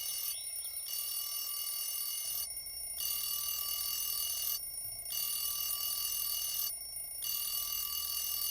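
A bedside alarm clock rings in a steady, insistent electronic pattern of repeated bursts, continuous and fairly loud, with no voices over it.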